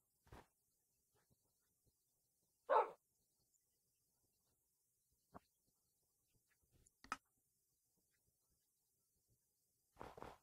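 A Minecraft dog or wolf gives a few short, sparse barks and yips, separated by long stretches of near silence, fairly faint overall.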